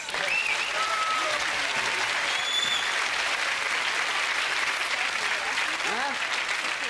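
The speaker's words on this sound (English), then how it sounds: "Give a nice clap, folks" A studio audience at a Generation Game recording claps steadily and loudly throughout, a dense unbroken wash of applause with faint voices mixed in.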